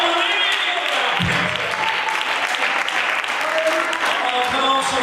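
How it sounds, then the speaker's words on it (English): A church congregation clapping hands during a revival sermon, a full, continuous burst of many hands filling the room, with voices calling out beneath the clapping. "Clap your hands if you believe it."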